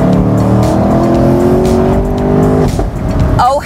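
A Chevrolet Camaro V8 convertible accelerating hard, its loud, close engine rising in pitch with a steady throttle roar before easing off near the end, where a brief chirpy squeal cuts in.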